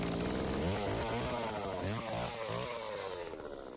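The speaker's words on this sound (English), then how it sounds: "Today, the chainsaw is used as its tip cuts down at an angle into the roots." A chainsaw bites its tip into the roots of a felled ash tree while hurleys are being shaped. The engine drones loudly and revs with changing pitch, then eases off toward the end.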